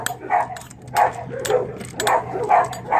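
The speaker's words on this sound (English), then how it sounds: "Early morning dogs." Dogs barking in the early morning somewhere outside, a few distant barks recurring in bursts roughly every half second to second over low background noise.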